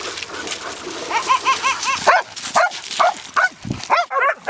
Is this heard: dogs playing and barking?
yes